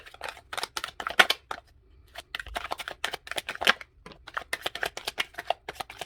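Tarot cards being shuffled in quick riffling bursts, close and crisp, with a short pause before another round of shuffling.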